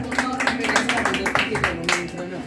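Applause from a crowd at a mariachi birthday performance, a dense patter of clapping lasting the whole moment at steady strength, with voices mixed in.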